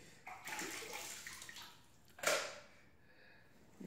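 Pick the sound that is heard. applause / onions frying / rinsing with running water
rinsing with running water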